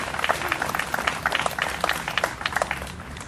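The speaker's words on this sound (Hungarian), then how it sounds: "Egy tapsot kérek a Jobbik ifjúsági tagozatának." Outdoor crowd at a Budapest street commemoration and rally claps, scattered uneven hand claps at moderate distance, fairly faint and loose rather than a solid roar.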